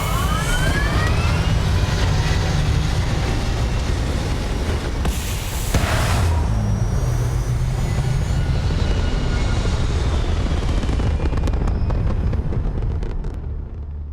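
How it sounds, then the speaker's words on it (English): Spaceship thrusters in the Starfield video game fire at takeoff, a loud, continuous roaring rumble that holds steady for the whole stretch, with a brief swell near the middle and a slight fade at the end. "All thrusters firing."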